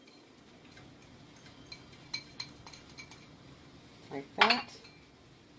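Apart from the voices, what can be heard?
stirring lentil stew in a pot after adding celery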